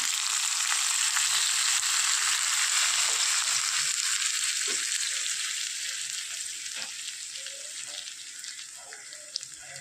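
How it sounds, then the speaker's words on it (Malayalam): Fried tempering poured into a pumpkin and ripe mango pulissery curry sets off a loud, steady sizzle and hiss that gradually fades, with a few faint clinks near the end. "ഈ വറ താളിച്ചത് ഫ്ലെയിം ഓഫ് ചെയ്തിട്ടുണ്ടായിരുന്നു എല്ലാം നന്നായിട്ട് മൂത്ത് വന്നിട്ടുണ്ട് ഇതിലേക്ക് ചേർത്ത് കൊടുക്കാം"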